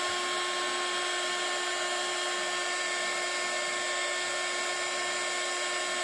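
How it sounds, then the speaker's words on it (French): A heat gun blows over a card being embossed for a craft project, giving an unbroken, even whooshing whine that runs alone for about six seconds. "Et je viens chauffer ça avec mon gun."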